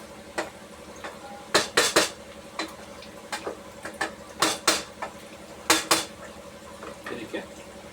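Chicken being mixed with masala in a pan for Guntur chicken, with intermittent metallic clinks and scrapes of a utensil against the pan, some in quick pairs, over a quiet kitchen background.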